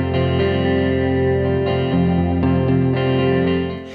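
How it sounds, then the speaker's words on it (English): Indiginis Renegade virtual electric guitar library played with effects such as distortion, chorus and echo, giving a loud, sustained chord with shimmering, layered tone that changes subtly through the passage before fading slightly at the end. "Renegade Electric Guitar is a great sounding instrument."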